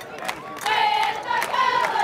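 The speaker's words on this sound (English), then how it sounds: "Floyd Central brought a good crowd" Crowd noise from packed bleachers at a Floyd Central high school football game away at Betsy Layne, a steady roar of voices and cheering with a few claps and shouts rising above it.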